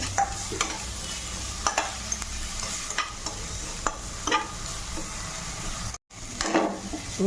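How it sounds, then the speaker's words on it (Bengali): Onion fries in a pan with ginger-garlic paste and chili paste, giving a dense, close sizzle broken by repeated spatula stirring and scraping, with no talk. "এবার আদা রসুন বাটা লঙ্কা বাটা দিয়ে দিচ্ছি"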